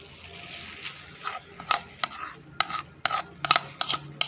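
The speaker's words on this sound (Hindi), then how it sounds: "ये सारी चीज़ें इसमें मिक्स कर देंगे और इसका पेस्ट बना लेंगे" A spoon stirs yogurt and spices into a thick paste in a bowl, making wet, sticky scraping strokes in an irregular rhythm, close and fairly loud, with no talking.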